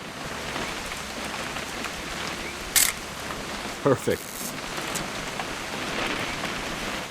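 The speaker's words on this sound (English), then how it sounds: "It's gonna rain the whole weekend, isn't it?" Steady rainfall patters throughout in What Remains of Edith Finch, a constant even hiss with a few brief mechanical clicks and knocks cutting in, and a single short spoken word over it.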